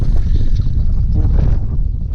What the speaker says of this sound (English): It's quite windy down here